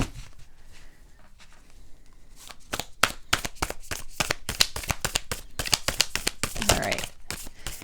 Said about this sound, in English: They're really a little stiff, so they're not so easy to shuffle these.